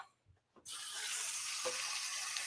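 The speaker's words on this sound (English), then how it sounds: "I'm currently washing a paintbrush if you can hear the water." Tap water runs steadily into a sink while a paintbrush is washed, starting abruptly after a quiet moment with faint clicks, then a continuous close hiss and splash.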